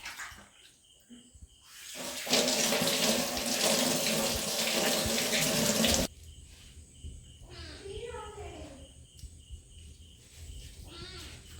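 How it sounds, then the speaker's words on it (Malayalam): Taro (madantha) is washed under a running kitchen tap for a Kerala curry, giving a loud, steady gush of water for a few seconds. Quieter stretches before and after carry people talking. "കഴുകണല്ലേ? നമ്മൾ കഴുകിയിട്ട് വാ."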